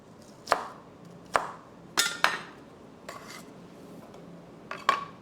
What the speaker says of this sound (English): if I start chopping this, it's gonna make me tear up